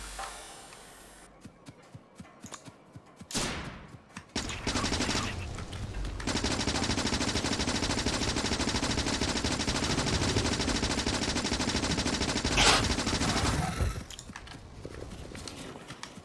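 Sustained automatic gunfire rattles on in Factorio as turrets or weapons fire on biters, a dense, continuous barrage with a few isolated shots before and after the main burst.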